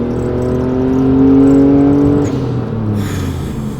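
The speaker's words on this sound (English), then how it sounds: "I'm trying to hear that turbo." Engine of a car with a turbocharged Nissan VQ, loud and close, holding a steady rising drone before easing off with a change in tone near the end.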